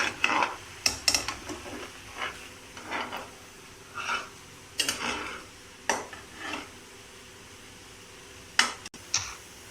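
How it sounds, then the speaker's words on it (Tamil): A spoon stirs boiling sugar syrup in a pot for a pineapple sweet, making quiet, irregular scrapes and clinks against the pan over a soft background. "சுகர் சிரப்பு நல்லா கொதிச்சுட்டு இருக்கும். நல்லா மிக்ஸ் பண்ணி விடணும்."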